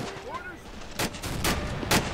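Gunfire in a WWII war video game: bursts of shots crack out at about one second and again near two seconds over a steady battle din, fairly loud and close.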